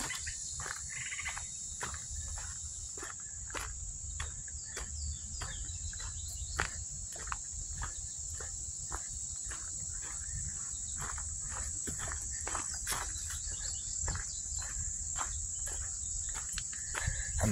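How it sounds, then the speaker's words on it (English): Tree frogs calling in woods near a pond, a steady high-pitched chorus with rhythmic pulsing trills, moderately distant and unbroken, with faint rustling steps underneath. "Tree frogs."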